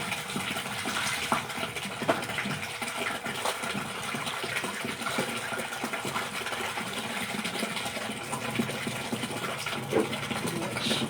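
Washing machine running while filled with water and laundry, a steady churning wash with a constant mechanical hum and sloshing, moderately loud and continuous throughout.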